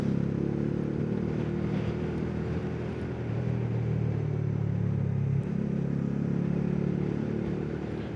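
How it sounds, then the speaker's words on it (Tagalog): Bajaj Dominar motorcycle engine braking on a steep downhill mountain road, a steady low engine drone with wind noise, shifting pitch slightly midway, close and continuous with no talk. "Ang gamit ko pala guys, nag-engine brake ako."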